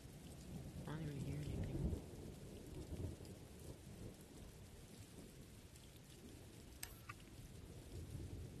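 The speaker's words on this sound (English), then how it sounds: "All I hear is rain." Steady, dense rainfall fills a video game scene, with low rumbles of thunder swelling early on and brief crackles later, continuous and alone without talk.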